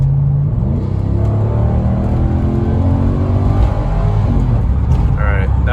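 A Mercedes C43 AMG accelerates hard at full throttle after a kick down, its engine rising through the gears in loud, close sweeps with rumbling road noise beneath and voices murmuring over it.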